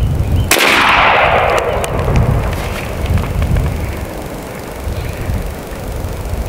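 An air shotgun fires a shell with one sharp, loud blast near the start, followed by a hissing rush that decays over a couple of seconds into a low, rumbling background.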